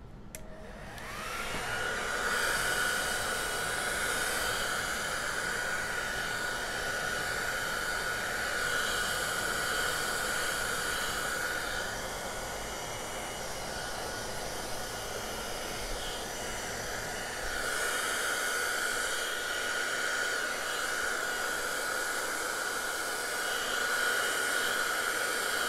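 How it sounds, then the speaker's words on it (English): A hair dryer blows continuously up close over an acrylic painting, a loud whooshing hiss with a steady high whine, dipping slightly in strength partway before returning. "Look at your hair dryer."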